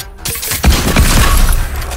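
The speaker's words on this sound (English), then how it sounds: "I have a mythical shotgun, bro." Shotgun blasts in a fast-paced building-and-fighting shooter, a mythical-tier shotgun firing close and loud in a dense burst of booming shots over busy game noise.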